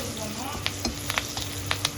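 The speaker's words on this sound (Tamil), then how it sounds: "கருவேப்பிலையை நல்லா வதக்கிக்கிறோம்." Curry leaves sautéing in hot oil give a steady sizzle, with a few short scrapes and taps of a spoon stirring the pan, and no talk.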